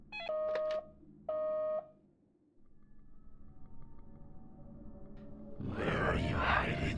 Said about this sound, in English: let's pick up the phone